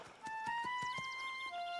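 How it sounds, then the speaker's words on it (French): A cartoon pony's hooves clop in a steady rhythm alongside a brief whinny, with bright background music throughout. "Il est vraiment grand ce cheval, papa."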